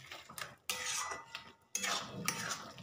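Fried fish heads are stirred into taro greens in a pot, heard as close clattering metal spoon strokes and wet scraping in two bursts separated by short pauses, fairly quiet with no sizzle.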